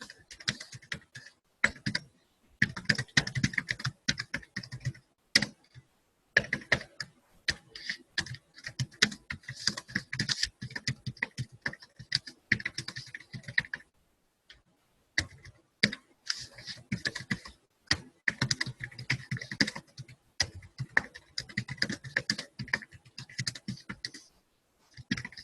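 Rapid typing on a computer keyboard in bursts of clicking keystrokes separated by brief pauses, close and clear with no talking.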